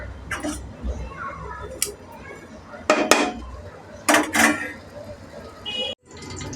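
A cooking pot of country-chicken curry ingredients, including onions, is shaken by hand, giving a few sharp metallic clanks and rattles in bursts, while a voice talks in the background.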